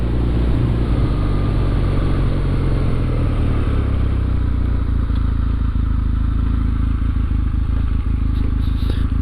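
A Kawasaki motorcycle engine idling up close with its clean air system deleted, a loud, steady, rumbling idle with some mechanical clatter running throughout, no one talking.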